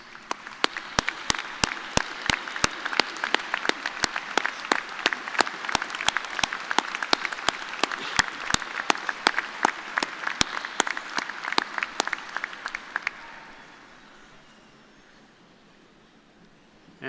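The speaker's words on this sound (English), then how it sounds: "let's give them a nice round of applause of thanks" Graduates at a spring agriculture commencement ceremony give their families a long round of applause, dense sustained clapping that fills the hall for about thirteen seconds before fading to quiet room tone.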